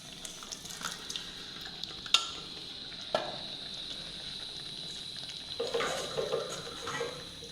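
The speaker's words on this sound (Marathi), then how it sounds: "आता उभलेली दाळ टाकते" Boiled toor dal tipped into a hot spiced tempering and stirred, giving a soft steady sizzle with a couple of sharp clinks and a wetter bubbling burst near the end, no voices.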